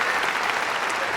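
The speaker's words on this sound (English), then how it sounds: "This one's called the Posh Applause." A short burst of dense, polished applause from an editing program's sound effect library, like a large refined audience clapping evenly and steadily at close range with no voices.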